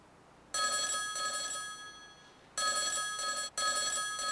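A telephone rings while a call is being placed, giving clear, close electronic bell bursts in a repeating pattern of ring, pause and ring again, alone against a quiet background.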